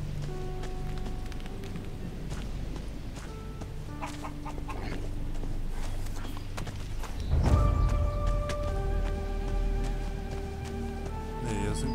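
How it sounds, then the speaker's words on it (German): A chicken clucks in the video game Risen, with repeated mid-level clucks over a soft farmyard background and a short louder burst of movement partway through. "Huhn."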